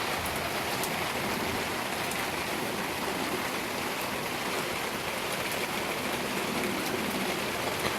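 Heavy thunderstorm rain pours down and runs along a street in Montpellier, a dense, steady hiss of downpour and runoff that fills the whole stretch without a break.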